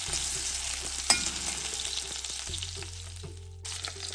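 Three cloves of garlic and a small piece of ginger fry in hot oil, a dense steady sizzle with one brief clink partway through and a faint low hum beneath, close and continuous with no speech.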